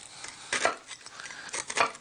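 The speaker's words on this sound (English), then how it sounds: "Let me cut a small piece so we can have it flat like that" A knife cuts a small piece from a cooked fish dish with butter and bread, giving faint scraping and tapping strokes of the blade against a plate in short, quiet bursts.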